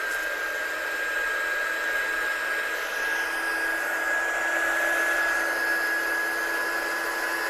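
A hair dryer blows steadily as something is dried off in a studio, a continuous close whirring airflow with a thin high whine running unbroken throughout.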